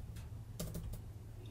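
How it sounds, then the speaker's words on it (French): Typing on a computer keyboard while setting up a PrestaShop module: a short burst of a few quick, close keystrokes around the middle, with a faint low hum underneath. "Je vais taper test input."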